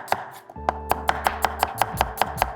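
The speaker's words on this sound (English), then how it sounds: "So we're gonna just chop it right in half." A kitchen knife chops an ingredient into thin slices on a cutting board, about a dozen sharp, close knocks in a quickening regular rhythm after a short pause.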